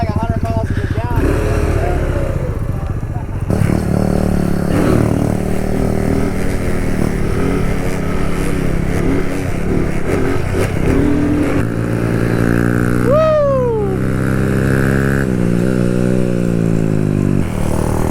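A Kawasaki Z125 motorcycle engine during wheelie practice while riding with a group, revving up and down in steady buzzing surges, close and loud, with a brief rising whine near the end.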